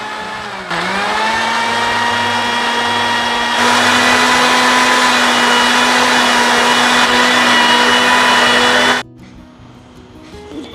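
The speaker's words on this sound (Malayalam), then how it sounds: "ഇനി നമുക്ക് മിക്സിയിൽ ഇത് നന്നായിട്ടൊന്ന് അടിച്ചെടുക്കാം" A loud, steady electric mixer grinder whine blending raw mango runs for several seconds, rising slightly in pitch partway through, then cuts off abruptly, leaving quiet background noise.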